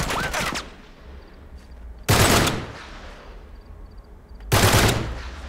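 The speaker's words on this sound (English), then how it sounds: "if I press the shoot button, it has to shoot 3 bullets at a time" Three-round bursts of gunfire in the video game Uncharted 3, loud and close: three separate bursts roughly two seconds apart, each a quick cluster of shots, with a faint low ambience between them.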